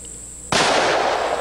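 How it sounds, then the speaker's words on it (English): A single sharp, loud blast from a Smith & Wesson .357 Magnum revolver fired at a watermelon, followed by a sustained roaring decay, with a steady high tone underneath. "we run our six shots through our revolver"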